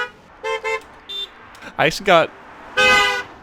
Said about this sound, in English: that's how I got a bunch of honking sounds